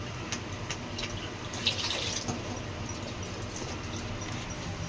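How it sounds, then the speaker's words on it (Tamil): Water pours steadily into an egg curry, a continuous soft splashing and trickling heard close and fairly quiet with a few brighter splashes, no talk. "மலிவின தண்ணியை நம்ம ஊற்றிக்கலாம்."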